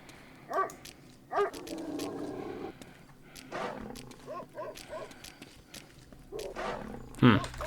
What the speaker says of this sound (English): I hear some more dogs.